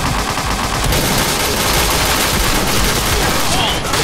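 Submachine gun fire in the shooter game Point Blank, loud continuous automatic bursts filling the whole stretch, dense and close, with gameplay effects layered over it.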